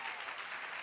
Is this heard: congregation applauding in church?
yes